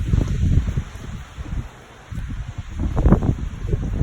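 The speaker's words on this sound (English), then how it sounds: "The wind is horrifying." Strong wind gusting through tree branches, rushing and rustling in uneven surges with a brief lull midway, close and fairly loud, some buffeting on the microphone.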